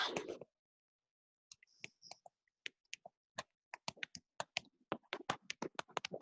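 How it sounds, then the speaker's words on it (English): Quiet keyboard typing: a few keystrokes, a pause, then a steady run of light clicks close to the microphone. "I'm just typing"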